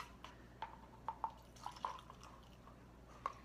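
Water from an essential oil diffuser is poured out into a sink, heard as a handful of small, faint drips and trickles scattered unevenly over a low steady hum, with no talking.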